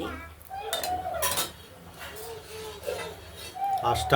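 Metal clinks and scrapes of a lid set onto a cooking pot during a fish curry, a few close sharp knocks amid background bird chirps and a faint voice.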